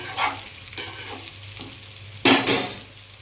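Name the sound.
stirring leftover roti pieces frying in a pan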